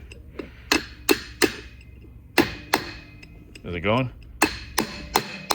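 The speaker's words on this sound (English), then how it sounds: "just smack it right there in the middle" Sharp hammer blows drive an output shaft onto tight splines during a 4L60E to NP241J transfer case install, a dozen or so close metallic whacks in uneven bursts, with a brief voice question partway through.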